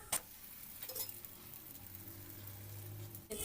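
Spicy karada bili holige flatbread sizzling softly in a pan as it is flipped, a steady low frying hiss with a few sharp clicks of the utensil against the pan at the start and end.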